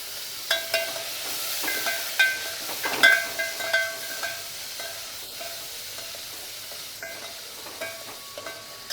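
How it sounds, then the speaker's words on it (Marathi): Coriander leaves hit a hot tempering for dal with a faint, steady sizzle, while a metal spoon stirs and clinks against the pan in a string of light, ringing taps. "असं फोडणीमध्ये कोथिंबीर टाकायचं, कारण वरणमध्ये ना छान लागते अशी."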